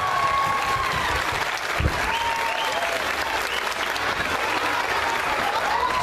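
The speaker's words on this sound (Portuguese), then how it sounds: "Salva de palmas, Nova Esperança!" An audience claps steadily and loudly after a children's performance of Brazilian folklore (Bumba meu boi) by schoolchildren, a dense, sustained applause from a crowd, with a faint voice briefly audible.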